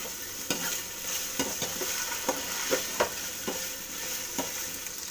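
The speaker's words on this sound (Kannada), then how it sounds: "ಈರುಳ್ಳಿ ಫ್ರೈ ಆಗಿದೆ ಇದಕ್ಕೆ ಟೊಮೆಟೊ ಹಾಕೋತೀನಿ" Tomato goes into fried onions in a pan for cauliflower sambar, a steady sizzle broken by regular scraping stirs of a spoon, about two per second, close and fairly loud.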